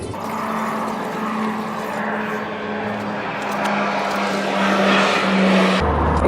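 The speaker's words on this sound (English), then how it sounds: "I don't know if you can hear that airplane going over" An airplane flies overhead as a steady, broad engine roar that swells gradually toward the end over a low hum, heard outdoors beside a Dodge Dakota.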